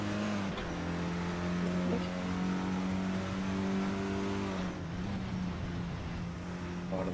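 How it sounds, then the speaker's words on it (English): Race car coasting off the throttle through a corner in a simClioCup sim racing game at the Bikernieki circuit; a steady, fairly quiet engine drone holds for several seconds with no sharp revving. "It's complete drop of the throttle there, just coasting through that corner."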